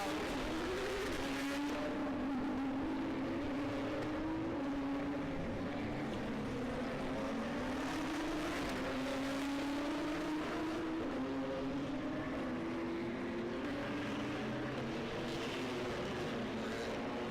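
Race car engines at the 2019 Dubai 24 Hours endurance race whine loudly and continuously, pitch rising and falling as cars stream past one after another, with no talking.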